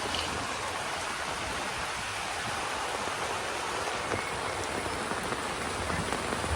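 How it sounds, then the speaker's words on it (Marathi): Heavy monsoon downpour in Pandharpur on the eve of Dussehra, drumming hard on a market shopfront and the street, a dense, even hiss of rain lasting several seconds with no talk. "सगळा पाऊसच पाऊस चालू आहे"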